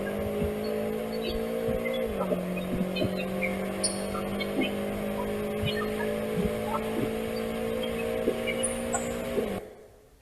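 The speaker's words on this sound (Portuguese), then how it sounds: "Esse som de carro acelerando e rápido" A car engine revving and accelerating hard, a loud steady droning tone that dips briefly then holds high, with faint chirps in the background before it cuts off abruptly.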